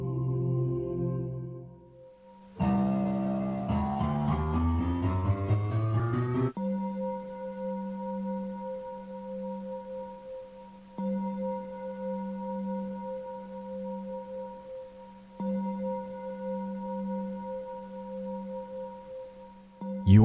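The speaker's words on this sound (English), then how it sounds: "replaced by the creepy ambience of ringing bells, sharp piano hits," Creepy video game ambience with ringing bells and sharp piano hits: a flurry of descending piano notes early on gives way to sustained, steady bell-like ringing tones that pulse in long sections, with no talking.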